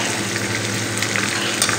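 Chicken and chopped garlic frying together in a pan for chopsuey, a loud, dense, continuous sizzle close by with a few faint stirring clicks and no talking.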